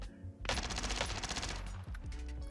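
PPSh submachine gun firing in Warzone, a loud close burst of rapid automatic fire lasting about a second and a half, followed by a brief pause and a few trailing shots, no talking.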